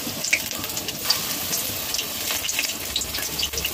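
Egg and vegetable pakoras fry in hot white oil in a pan, giving a steady sizzle with scattered sharp crackles and pops, close and moderately loud with no talking.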